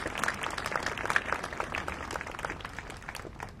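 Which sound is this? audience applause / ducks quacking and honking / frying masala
audience applause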